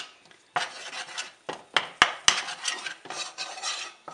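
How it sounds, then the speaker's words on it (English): Flour being stirred into melting butter in a pan over medium heat, heard as soft scraping and rubbing strokes with a few sharp utensil clinks against the pan, close and quiet, with no talking. "on medium heat I'm just gently going to stir this"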